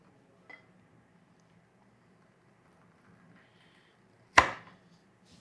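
Strawberries are cut with a slicer: a small tap comes first, then after a quiet pause one loud, sharp chop or clack close by, followed by a brief rattle.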